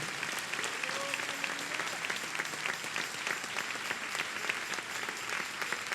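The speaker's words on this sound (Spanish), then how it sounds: "Denle un aplauso al Rey en esta hermosa mañana" A church congregation applauds during a Sunday morning sermon, a dense, steady wash of many hands clapping that carries on evenly for several seconds.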